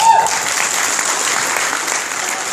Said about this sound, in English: Give that man a round of applause, guys.